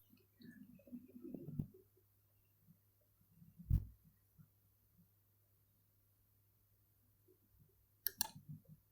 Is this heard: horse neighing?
no